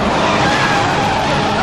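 A car brakes hard and skids in a TV drama episode, a steady, loud tire screech and road roar filling the whole moment without a break.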